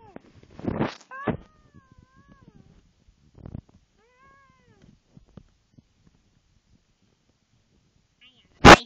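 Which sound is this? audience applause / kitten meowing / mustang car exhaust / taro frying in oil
kitten meowing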